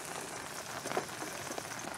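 Steady rain falls on a campsite in Natividad, Pangasinan, during a solo motorcycle overnight camp, a dense continuous hiss of drops on surfaces that holds even and close throughout with no talk.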